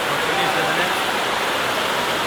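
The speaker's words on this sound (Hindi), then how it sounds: "अरे भाई साहब देखो भाई साहब कह रहे हैं बारिश पड़ रही है" Steady broadband rain pours down at Khatauli railway station in India, a loud, even hiss filling the whole clip with no breaks.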